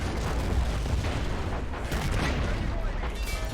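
A BT-7 tank fires in Men of War: Assault Squad 2 amid the battle of Stalingrad, heavy booms layered into a constant din of battlefield gunfire and explosions.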